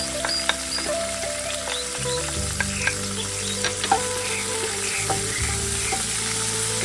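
Dried chilies and mustard seeds sizzle and crackle in hot oil with curry leaves for a yam curry, a steady close frying hiss with scattered pops and spits, plus a few stirring clinks near the pan.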